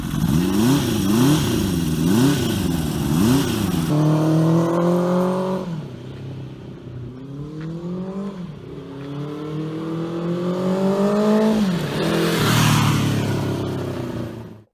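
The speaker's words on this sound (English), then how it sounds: "It sounds like a big, fast, powerful motorcycle." A Honda CB350 Four motorcycle engine revving up and down repeatedly, loud and close, with rising and falling pitch sweeps and no talking.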